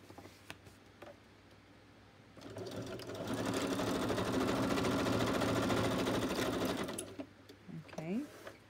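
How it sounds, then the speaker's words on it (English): Sewing machine stitching around a pocket, its rapid needle chatter rising for about four seconds at close range, with light handling noises and a little talk before and after. "I need to stitch around the front first"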